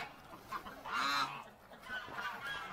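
Ducks honk and quack loudly in a brief burst near the microphone, with fainter calls before and after, among a flock of domestic fowl.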